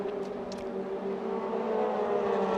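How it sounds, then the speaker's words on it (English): Formula Renault 2.0 race cars roar out of Pouhon corner at Spa in a five-car train, a steady droning engine note building slightly louder toward the end, with no talk. "So this 5-car train thunders its way out of Pouhon corner."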